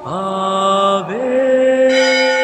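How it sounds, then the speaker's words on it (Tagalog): A church bell rings during a religious procession at a shrine, with a sustained resonant tone that swells and shifts as strokes overlap, loud and close. "Kasabay ang pagtunog ng kampana."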